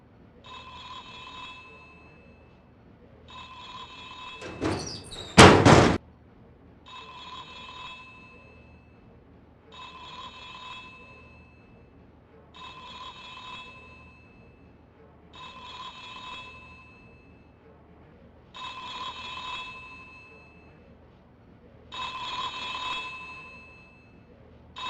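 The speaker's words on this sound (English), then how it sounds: "That's your phone." A telephone ringing in The X-Files PlayStation game, a series of repeated electronic ring bursts about every three seconds at steady volume, with one loud sharp click-like burst near the start and no voices.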